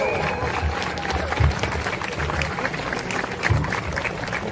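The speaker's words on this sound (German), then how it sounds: "Einen riesigen Applaus für André Hunko." Outdoor rally crowd in Berlin applauding Andrej Hunko at a birthday rally for Julian Assange, dense continuous clapping with a few louder bursts, mixed with crowd murmur and voices.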